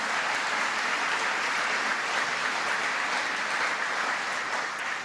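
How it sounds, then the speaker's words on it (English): Sustained applause from an audience at a photonics event in upstate New York, a dense, even wash of clapping held at steady volume for the full stretch without a break. "Give them a big round of applause."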